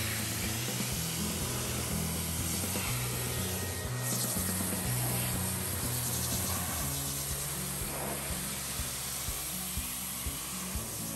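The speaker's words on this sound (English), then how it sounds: "instead of scrubbing this door panel, we're just gonna spray it off" Water sprayed onto the door panel of an abandoned Plymouth Fury, a continuous hissing wash with rumbling low noise and a few surges, steady throughout.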